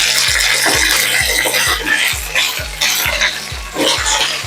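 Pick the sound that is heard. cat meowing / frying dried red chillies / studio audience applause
frying dried red chillies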